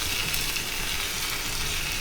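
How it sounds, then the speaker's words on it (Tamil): Mustard seeds and cumin sizzle and crackle steadily in hot ghee as a tempering for rasam, a close, continuous frying hiss. "ரசத்துக்கு தாளிக்க ரசத்துக்கு வந்து கடுகு, சீரகம் தாளிக்கலாம்"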